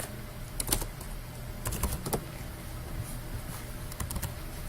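Typing on a computer keyboard, quick irregular bursts of close key taps over a steady background hiss, no voices.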